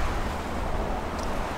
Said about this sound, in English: So it's super windy today.